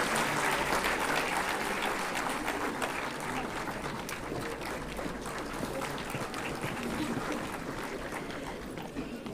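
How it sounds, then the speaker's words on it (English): Audience applause at the CSIR Foundation Day 2023 celebration honouring invited lecturers, a steady, fairly soft round of clapping from a hall crowd that carries on for several seconds without a break. "Big round of applause."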